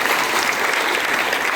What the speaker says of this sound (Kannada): ಜೋರು ಚಪ್ಪಾಳೆ ಮಕ್ಕಳಿಗೆ